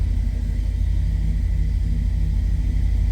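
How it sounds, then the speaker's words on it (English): A 1968 Chevrolet C10 regular cab longbox pickup idling just after a cold start, a steady deep low rumble with an even engine pulse, close and loud throughout with no talk. "It's a good sounding truck, no doubt about that."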